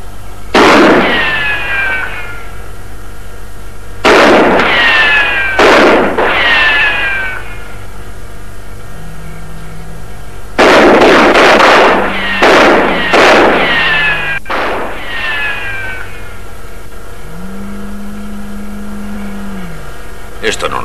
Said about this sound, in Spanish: Tal vez si hacemos unos cuantos disparos logremos asustarlos